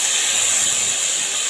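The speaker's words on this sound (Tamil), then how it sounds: "இப்போ நம்ம கட் பண்ணி வச்சுருக்கிற ஆனியனும் டொமேட்டோவும் சேர்த்து வதக்கிக்கலாம்." Chopped onion and tomato hitting hot butter and oil in a pan for a capsicum paneer gravy, producing a loud, steady, close sizzling hiss that continues without a break and without talk.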